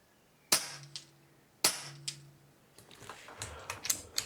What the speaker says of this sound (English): I'm going to put a little pellet down through here anyway